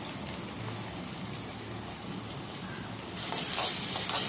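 Onions sauté in hot oil, giving a steady close hiss and sizzle with a couple of faint knocks, then a louder crackling surge toward the end, with no talking.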